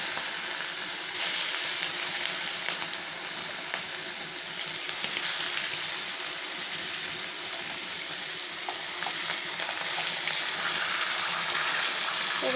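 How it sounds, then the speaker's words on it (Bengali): Fish frying in oil in a wok, a dense, steady sizzle with bright crackle and spatter holding level and close throughout, with no talking over it. "কড়াতে তেল দিয়ে দিয়েছিলাম, মাছগুলো ভেজে নিই।"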